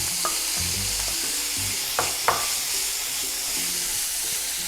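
Chopped capsicum added to onions frying in a pan, a loud continuous hiss and sizzle with a few sharp clatters and stirring scrapes, no talking.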